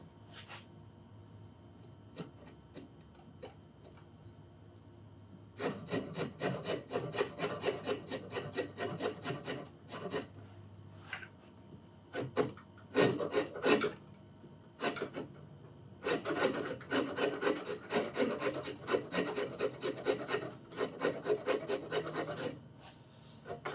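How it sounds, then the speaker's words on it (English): An aggressive file scrapes away at the wooden neck of a steel-string guitar in rhythmic rasping strokes, close by, coming in bursts separated by short quiet gaps. "stay as vertical as I can with my most aggressive file, and to start filing this away."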